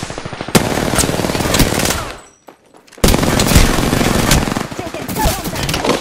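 Loud, dense automatic gunfire from the Apex Legends video game, sustained bursts that drop out briefly around the midpoint before resuming at full intensity.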